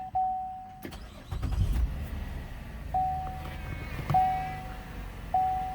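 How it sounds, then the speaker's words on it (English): A 2013 Chevrolet Impala's engine starting after a key cycle: chimes sound, then the starter cranks briefly and the engine catches and settles into a quiet idle, with further warning chimes repeating. "start the engine."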